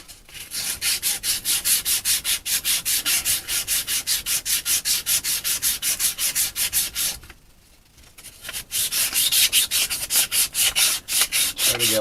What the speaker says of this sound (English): So I'm just going to take some 500 grit and clean up the shaft here.